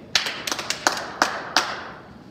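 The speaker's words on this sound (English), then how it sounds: "And remember, 5 claps" Five sharp hand claps spaced unevenly over about a second and a half, close and fairly loud in a quiet room during a kids' exercise and music lesson, with no talking.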